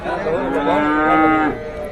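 A cow at a village cattle market lets out one long, loud moo lasting over a second, steady and close, with faint market bustle behind it.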